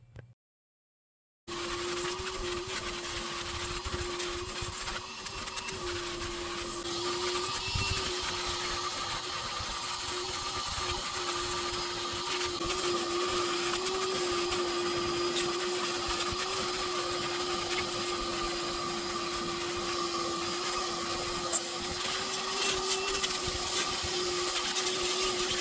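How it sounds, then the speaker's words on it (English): A carpet cleaner with a hose attachment works over a car's dirty interior, giving a loud, steady motorized whine with a constant tone that starts after a brief silence and runs unbroken. "I've got a hose attachment on my carpet cleaner, and I'm going to take it to it and clean it"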